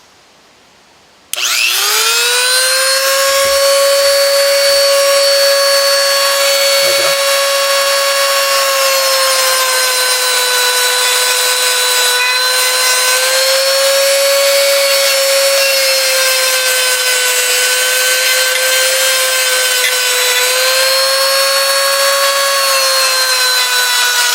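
A Tacklife RTD34AC rotary tool whirs up sharply and runs at a steady high pitch, loud and close, with a faint scraping contact partway through as a part comes loose.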